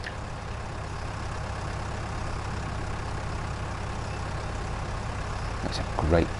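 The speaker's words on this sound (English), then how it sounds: "That's a proper diesel engine sound, that is." A tractor's diesel engine in Farming Simulator 19 drones in a steady low rumble throughout, with someone talking over it.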